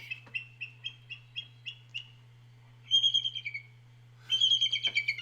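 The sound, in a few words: baby crow calling near eagle nest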